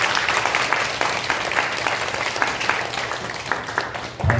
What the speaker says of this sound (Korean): 자리에 박수로 환영해 주시기 바랍니다.